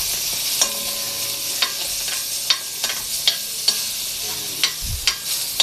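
Chicken fat sizzles and crackles in a hot pan, a steady frying hiss punctuated by sharp scraping and stirring clicks roughly every half second, close and moderately loud.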